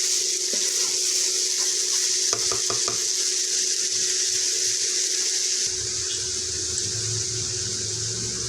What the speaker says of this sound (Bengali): চিনি দেওয়ার পর আবারও ভালোভাবে নাড়াচাড়া করব।